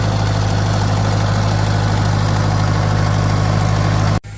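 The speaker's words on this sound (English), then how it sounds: "Let's give it a few minutes and see if it keeps idling." An old Farmall 504 tractor engine idles steadily with a constant low hum and even mechanical rumble, close and loud, running without a break until a sudden cutoff near the end.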